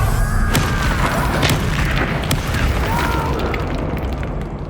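A Bombarda blasting spell explodes in the Hogwarts Legacy video game, giving a loud, deep boom with sharp crackling bursts on top that slowly decays over a few seconds.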